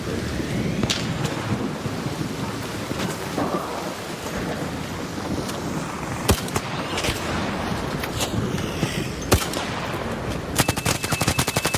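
Sniper gunfire in the ARC Raiders video game: sharp cracks break through a steady rain-like storm ambience, with a few isolated shots, then a rapid burst of fire near the end.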